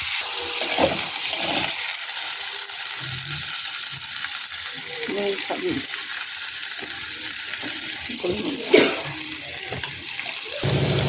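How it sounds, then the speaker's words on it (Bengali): Water poured into a pan of frying potatoes and cauliflower, a steady hiss and splash of liquid hitting hot oil running throughout, with a brief sharper burst near the end. "এবার আমি জল দিয়ে দেবো।"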